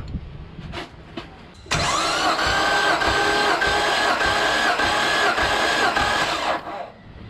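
A Nissan RB25DET engine with ARP head studs cranks over on the starter during a compression test, a loud, steady rhythmic whirring that runs about five seconds and then stops, with faint clicks before it starts.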